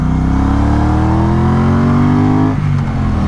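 A Triumph Speedmaster cruiser motorcycle engine revs loud and close, its pitch climbing steadily for a couple of seconds before the throttle snaps shut and the note drops away.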